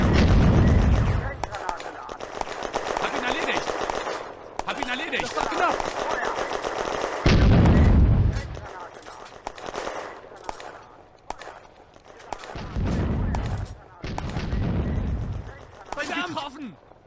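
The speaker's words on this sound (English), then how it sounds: "The German Granatwerfer is targeting the Soviets in the building in the central sector." German Granatwerfer mortar fire in a World War II combat game, with heavy booming blasts, one at the start and others spaced through the clip, amid sustained gunfire and battle noise, loud and close.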